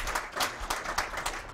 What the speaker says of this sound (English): Can I get you guys to do a round of applause for this panel, though, before we go to questions?